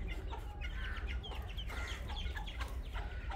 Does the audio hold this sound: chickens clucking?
yes